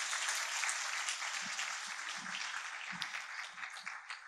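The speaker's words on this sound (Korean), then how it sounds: "여러분 축복의 박수로 좀 했으면 좋겠습니다" A church congregation claps steadily for a newly married couple, the applause fairly soft and even throughout.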